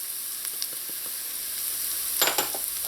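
Garlic and curry toasting in a pan for curry shrimp and potato, with a quiet steady sizzle and faint crackles, plus a couple of brief louder stir scrapes near the end.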